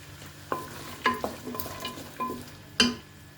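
Carrot pieces dropped into a pan of frying potatoes for vegetable biryani and stirred: a low sizzle under a handful of sharp metallic clinks and scrapes of a spoon on the pan, close and irregular, ending in a louder knock.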